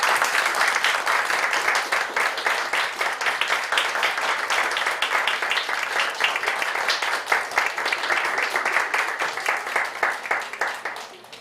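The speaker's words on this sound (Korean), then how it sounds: "우리 격려하면서 박수 한번 하겠습니다." A church congregation at a Sunday worship service claps together in a long, steady round of applause, rhythmic and fairly even, lasting over ten seconds before tapering off.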